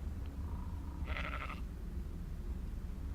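A sheep in ARK: Survival Evolved Extinction gives one short wavering bleat, faint and alone over a low steady game background hum.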